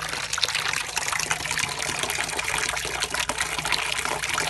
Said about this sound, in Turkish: Suyumuz akıyor şu anda.